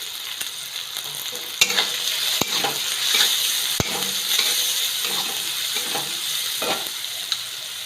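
Tomatoes sautéing with turmeric in a hot pan for vermicelli upma, with a steady loud sizzle and scattered sharp clicks of a spoon stirring against the pan, close up with no talking.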